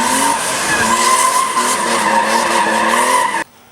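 A car drifts in tight donuts in first gear, its tires skidding and squealing continuously at close range with engine revs rising and falling underneath, until the sound cuts off abruptly near the end.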